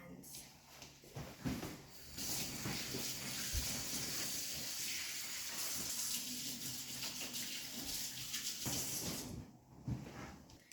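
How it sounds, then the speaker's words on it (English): A water tap runs steadily into a sink during handwashing before cookie baking, a continuous close splashing hiss lasting several seconds, with faint voices around it. "So let's go wash our hands."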